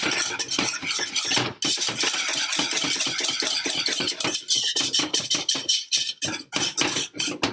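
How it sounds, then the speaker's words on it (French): A spoon or whisk scrapes repeatedly around the bottom and edges of a pan as lemon cream for a lemon meringue tart is stirred. The strokes are close and rhythmic and continue without pause against a low background hum. "Surtout continuer à mélanger vraiment les angles"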